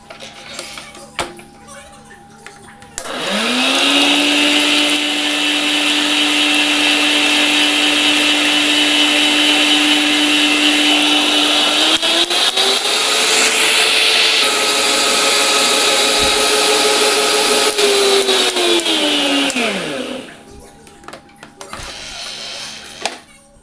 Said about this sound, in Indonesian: masukkan 3 butir telur utuh, 110 gram gula pasir dan 1 sendok teh SP. Kemudian kita mixer sampai putih